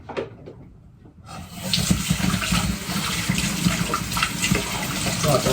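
A tap gushes steadily close by, a full, heavy rushing stream of water that starts after a short quieter moment and keeps running. Voices murmur faintly underneath.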